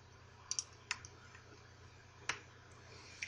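Computer mouse clicks at a desk, a few sharp isolated clicks, two close together, then single ones spaced out, faint over a low steady hum, with no voices.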